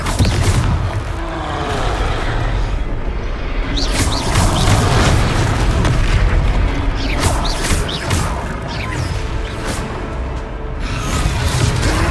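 A Confringo fire spell explodes during a troll fight in the video game Hogwarts Legacy, with loud, dense booms, crashes and mechanical impacts that crackle in bursts across a sustained, heavy battle din.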